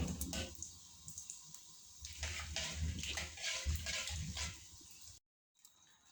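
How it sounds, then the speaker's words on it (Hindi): Water pours from a glass into a cooking pot for rice, a continuous close splashing gush with uneven surges, ending abruptly after about five seconds. "और इसमें पानी डालूंगी 3 गिलास।"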